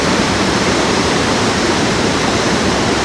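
Li Phi waterfall on the Mekong River in southern Laos, a steady, loud, dense roar of rushing water that stays constant throughout with no voices.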